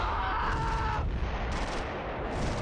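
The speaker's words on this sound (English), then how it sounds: "We also have Brunner putting some heavy fire down on them" Bursts of gunfire from the Stalingrad urban battle in the strategy game Close Combat III, with dense overlapping shots and crackling volleys that drop away partway through and then resume, loud and steady across the clip.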